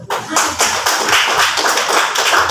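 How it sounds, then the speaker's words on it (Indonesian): A congregation at a church thanksgiving and prayer service for Papua applauds with a dense, sustained round of many hands clapping at an even loudness throughout. "Tepuk tangan betul."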